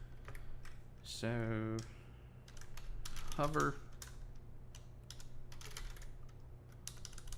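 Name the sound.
typing on a computer keyboard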